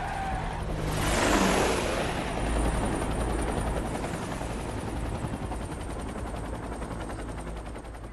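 Helicopters pass overhead with loud rotor thumping that swells early, then settles into a continuous rumbling beat.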